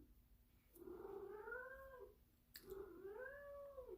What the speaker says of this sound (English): Sorry about my cat. Let's see if I can get him to say hello to you.